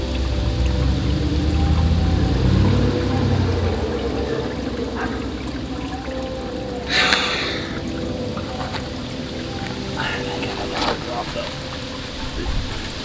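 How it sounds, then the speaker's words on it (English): Fuel draining from a stuck-open injector into an intercooler, a continuous splashing pour and trickle heard close, with a brief hiss in the middle and soft knocks. "This is draining the intercooler now."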